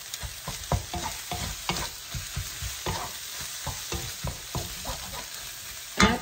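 Indonesian mie goreng noodles being stir-fried and tossed in a hot pan, a steady sizzle broken by repeated scraping, clattering stirs in an uneven rhythm, close and fairly loud, no talking.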